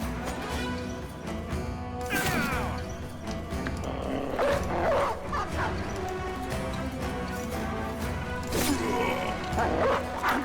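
A dog barking and yipping in a video game fight, repeated sharp barks and whimpers over a busy backdrop of game noise and growls, loud and close throughout.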